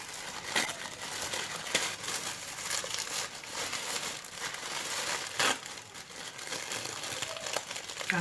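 A wrapped parcel is opened with continuous close crinkling and crumpling of packaging for several seconds, with a few sharper rustles and no speech.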